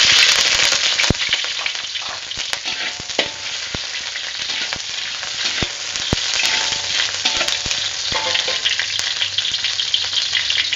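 Shallots and garlic dropped into hot cooking oil for stir-fried okra with dried shrimp, sizzling and crackling loudly and steadily up close, with sharp popping spits and occasional scraping stirs.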